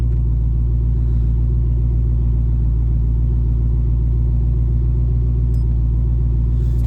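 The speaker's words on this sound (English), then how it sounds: "First drive in the Cobra." A 2004 Mustang SVT Cobra's four-valve engine rumbles loud and steady from inside the car on its first drive, a constant low drone with no talking.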